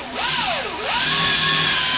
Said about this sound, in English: It's a time saver to use an electric drill for sure.